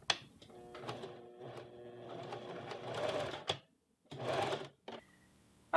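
Sewing machine stitching buttonholes into a blouse, a steady close mechanical whirr that runs for a few seconds, breaks briefly, resumes, then stops.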